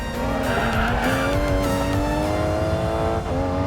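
Race car in the mobile game Racing Master, on an open-world course in the Alpine foothills, its engine holding a loud, steady rising whine with tire squeal throughout a short continuous stretch, no talking.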